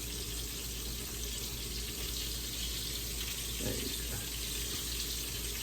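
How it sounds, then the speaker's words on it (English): Tap water pours steadily into a pot of lima beans on the stove, a faint continuous rush under kitchen background noise, with a brief spoken remark. "I need some more water in my lima beans."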